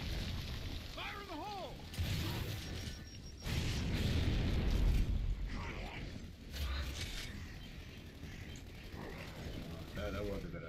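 A grenade blast in Gears of War 2 rolls out as a broad, rumbling boom mixed among game effects and mechanical clanks, with talk over parts of it.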